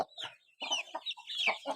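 Hen clucks in short bursts on a poultry farm, a few quick calls close by, with brief pauses between them and no talking.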